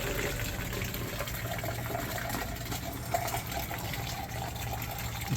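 Water is poured into a pipe during a service call for a no-hot-water problem, giving a steady, close, gushing trickle with no break.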